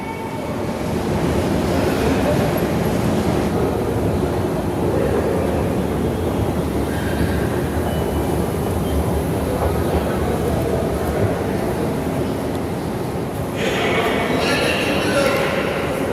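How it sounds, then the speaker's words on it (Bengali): A metro train inside a deep underground Kolkata metro station, a loud sustained rumble and roar that runs throughout, with a voice talking over it. "এশিয়ার সব থেকে ডিপেস্ট মেট্রো স্টেশন হচ্ছে এই কলকাতা মেট্রো স্টেশন"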